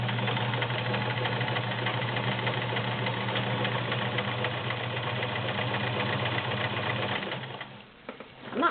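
A Kenmore 1802 domestic sewing machine runs steadily while zigzag stitching through four layers of garment leather, a fast even whirring hum up close, slowing and stopping near the end with a few clicks.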